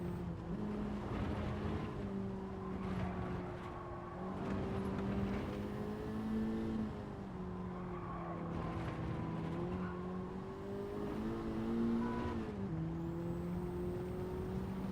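In a racing video game, car tyres squeal in repeated wavering tones over steady engine and road noise, fairly quiet and with no talking.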